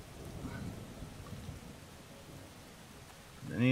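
Rain and thunder in the video game Starbound: a low, rolling rumble over a steady wash of rain that eases toward the end, then a brief tonal sound cuts in at the close.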